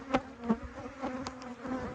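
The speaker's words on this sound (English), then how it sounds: "Bees coming and going, coming and going." Close buzzing of honey bees at a hive entrance, a steady droning hum with individual insects zipping past the listener.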